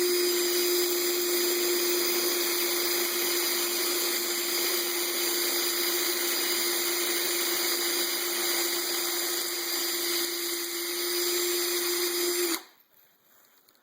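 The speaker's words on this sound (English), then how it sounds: "watch the timer on the video and see how long it takes to trim all that brass off" A case trimmer cutting .223 brass down to 300 Blackout length whines with a steady, loud, high-pitched motor tone for about twelve seconds, then stops abruptly into near silence.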